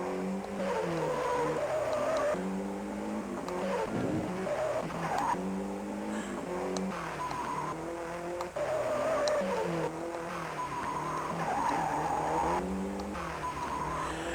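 Powerful, meaty car engine from Gaelco's World Rally arcade racing game, played on the Evercade, roaring loudly and continuously with pitch repeatedly climbing and dropping through gear changes, with faint tire skids.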